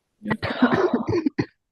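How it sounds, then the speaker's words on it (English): A person coughs and gags in a rough, strained burst lasting over a second, followed by a couple of short choking sounds. "I've been coughing and making gagging sounds."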